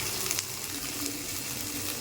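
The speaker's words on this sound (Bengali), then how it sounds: "তেলের মধ্যে পেঁয়াজ রসুন আদা বাটা দিয়ে দিলাম এক এক চামচ করে পেঁয়াজ রসুন একটু ভাজা ভাজা হবে" Onion, garlic and ginger paste frying in oil, a soft, even sizzle that stays fairly faint and continuous, with a light splashy hiss on top.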